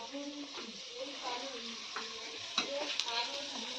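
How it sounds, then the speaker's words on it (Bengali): Three eggplants frying in a pan on a home kitchen stove, giving a soft, continuous sizzle with occasional stirring clicks, heard beneath quiet voices talking nearby. "বেগুন 3টে ও ভাজা করে নিচ্ছে।"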